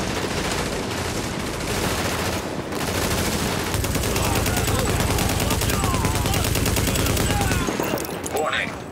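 Gunfire in Tom Clancy's The Division, rapid sustained automatic bursts rattling in a dense fusillade throughout, with a steady machine-gun rhythm, and a voice speaking over the shooting.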